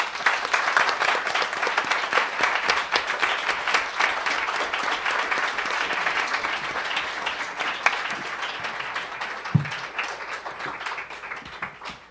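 A large audience at the 2020 International Women of Courage ceremony gives a sustained round of applause, dense and steady clapping filling the room throughout, loud and continuous with a few slightly sharper claps near the end.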